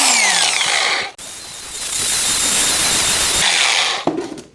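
An angle grinder cuts down a bicycle crank part in a long, loud, steady whine with a harsh metallic hiss, starting after a brief buzz, holding for about two seconds, then stopping with a few clanks.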